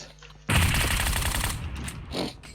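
Rapid automatic gunfire in a video game, a dense burst of loud shots lasting about a second, then tailing off into fainter shots and echoes.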